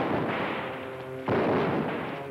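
Gunfire rings out in a shootout at a remote Alaskan cabin, two loud booming shots about a second apart, each with a long rumbling echo tail, close and powerful with no voices.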